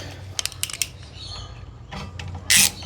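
A ratchet tightens a bolt on a Peugeot 206 torsion bar, a few quick clicking bursts near the start followed by a longer, louder rasp of clicks near the end, close up with no talk.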